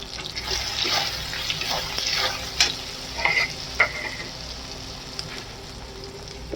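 Masala of chilli powder, turmeric, a little sugar and salt fries in oil with a splash of water, giving a close, steady sizzle broken by scraping stirs and a couple of sharp sputters.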